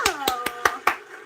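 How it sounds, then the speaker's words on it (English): Five sharp hand claps ring out in an even rhythm, fairly faint and distant, coming from an audience seated behind in a conference hall. "Can we hear the clapping coming from behind?"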